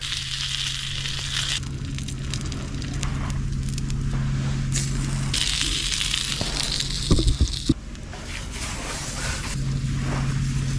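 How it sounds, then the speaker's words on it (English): Pork jowl bacon frying over a winter campfire outdoors, a steady close sizzle and crackle with a brief sharp knock or clatter partway through. "Got some pork jowl bacon left over from my last trip. Gonna let that cook right there."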